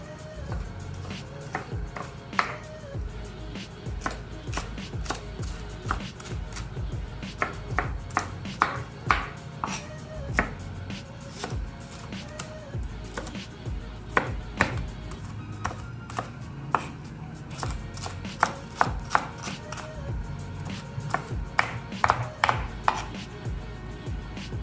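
Knife chopping onions on a board in a home kitchen, quick irregular clusters of crisp taps repeating throughout, fairly close and moderately loud.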